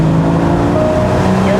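A Porsche 981 Boxster S in Sport Plus mode with manual shifting pulls away on a winding road, its engine droning loudly from inside the cabin with rising tones as it accelerates briefly.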